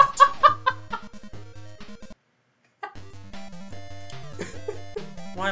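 Synthesized chicken clucks from the game Sonic Pocket Adventure pop out over chiptune music, a quick burst of clucks at the start, then the music cuts out briefly before resuming with more clucking.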